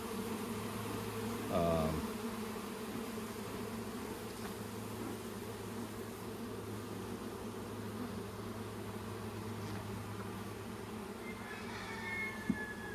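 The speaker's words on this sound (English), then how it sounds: "I was always nervous when the bees got on me" Honeybees hum in a steady, close drone around an open backyard hive during an inspection, with a brief louder swell near the start as bees pass close by.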